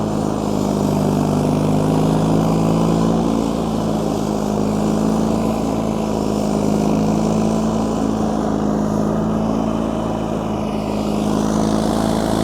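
A John Deere 316 garden tractor clears light snow, its engine droning steadily and loudly from start to finish with a constant low hum and no pauses.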